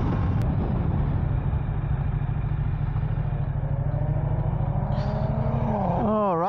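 A Ducati XDiavel S motorcycle engine runs with a steady, close, throbbing rumble that holds even for several seconds before rising sharply into a rev near the end.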